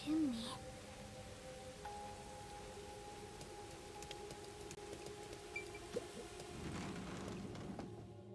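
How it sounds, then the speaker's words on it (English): Rain falls in the video game Master Detective Archive: Rain Code near a massive chimney, a faint steady patter under low droning machinery hum and a few soft tonal sweeps, with no voices. "So this is what's making the rain."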